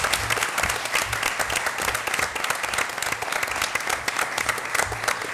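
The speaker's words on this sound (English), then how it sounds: "Let's have a round of applause for Ms. Bowers." Sustained round of applause from an audience at a school board meeting, dense steady clapping throughout without breaks.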